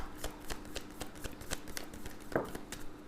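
Tarot cards being shuffled by hand, a quiet close run of rhythmic riffling flicks repeating several times per second with one sharper slap partway through.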